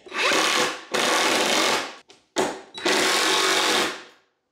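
A power driver sinks 1.5-inch lag bolts through a swivel caster into a homemade engine run stand, whining in four loud close bursts separated by short stops and a brief blip.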